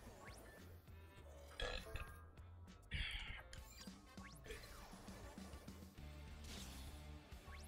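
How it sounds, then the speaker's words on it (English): Close burps into a microphone from a person on a trip heading underground, a few short throaty bursts amid quiet rustling and handling noise, with no speech. "I'm sorry if the mic captured"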